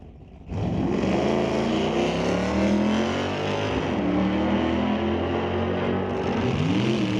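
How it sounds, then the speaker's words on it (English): A drag race car at Mission Raceway Park in the JBS Equipment ET Series roars loudly and close with its engine going on and off the throttle at the top end, the pitch rising and dipping in steady sweeps. "On and off the gas a little bit up at the top end."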